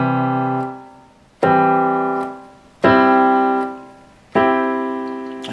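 A chord inversion for a banjo-style part on an accordion, with its lowest G raised an octave, is sounded four times in an even rhythm, each a bright chord that swells in at once and then fades before the next.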